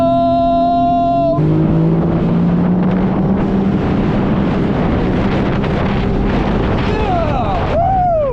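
A Sea-Doo personal watercraft speeds across a calm harbor, its engine droning loud and close with steady wind rush over the microphone; a rising whine and splashing fill the run, and a brief voice cries out near the start.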